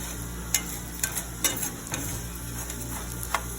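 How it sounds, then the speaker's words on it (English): Noodles fry in oil with a soft, constant sizzle while a utensil stirs them, making scattered light clicks and scrapes against the pan, close by. "And I'm stirring the noodles by themselves first."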